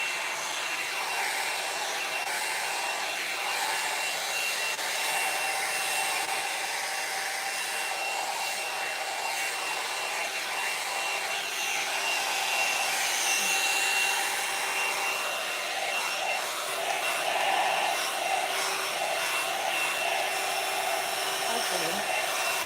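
A handheld hair dryer blows on hair as it is dried before curling, a loud, steady whooshing roar close by that wavers slightly as the dryer moves, with no talk.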